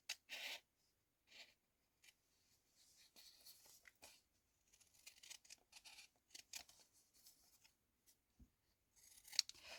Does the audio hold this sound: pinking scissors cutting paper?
yes